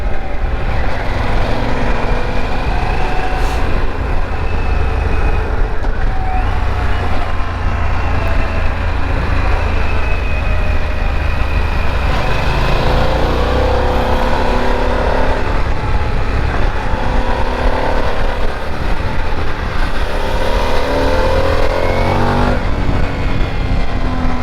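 A 2024 Harley-Davidson Pan America motorcycle ridden on the road, its engine droning steadily with rising and falling revs and wind rush throughout, loud and close from the rider's position.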